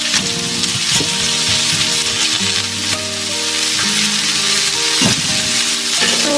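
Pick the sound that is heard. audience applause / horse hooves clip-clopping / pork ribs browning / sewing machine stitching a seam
pork ribs browning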